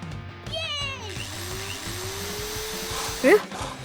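A saw cuts through a house frame in The Amazing Digital Circus cartoon: a sustained mechanical whine with a gliding pitch runs over a busy background, ending in a brief louder burst.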